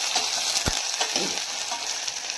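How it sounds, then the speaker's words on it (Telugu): Ingredients fry lightly in hot oil for a Telugu drumstick rasam, a steady close sizzle with a few soft clinks of a spoon stirring, and no voices. "ఇది కొంచెం మన వేగాలి కదా ఆయిల్లో, కాస్త లైట్గా ఎట్లా వేయించేద్దాం"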